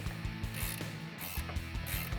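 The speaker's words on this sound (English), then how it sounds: "I highly recommend getting a ratcheting wrench like I'm using." Ratcheting wrench loosening 18mm strut nuts on a 2007-2018 Silverado or Sierra 1500 during a leveling kit install, a close rhythmic clicking of the pawl in short repeated strokes, with no talking.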